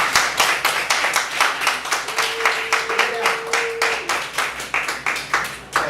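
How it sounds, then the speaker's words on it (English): A crowd at a repatriation and investment conference in Ghana applauds with rhythmic, evenly spaced clapping, loud and close, keeping a steady beat throughout. "So let's give Brother Bumani a round of applause."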